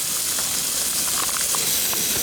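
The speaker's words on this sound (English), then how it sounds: "Lardons sizzling away in the pan." Steady, dense sizzling hiss of bacon lardons frying in a hot pan, continuous and close, with occasional faint pops and crackles.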